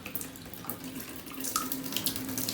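Tap water runs in a steady hiss and splash, poured onto a small homemade water wheel to see whether it spins. The flow is close and continuous for about two and a half seconds, with no one speaking.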